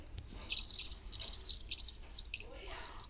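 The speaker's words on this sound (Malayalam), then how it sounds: "ഗ്യാസലിൻ നമുക്ക് നിറച്ചൊഴിക്കാൻ കഴിയും." Gasoline poured into a car's tank in the Granny video game: a close, steady stream of dripping, trickling liquid sounds running for a few seconds, with a voice heard at times.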